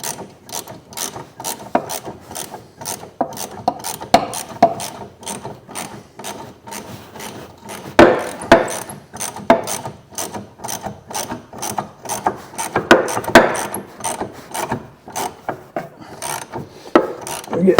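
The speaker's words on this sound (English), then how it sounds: "So I've got the socket and the extractor on there." A socket and bolt extractor turning a seized rear brake bolt on an MG ZS 180, a steady run of close, loud ratchet clicks in quick repeated strokes, with occasional heavier creaks and strains as the bolt resists.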